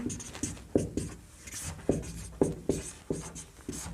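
Chalk or marker writes on a board during a physics lesson, giving a series of short tapping and scratching strokes at an uneven pace, fairly quiet and with no one talking.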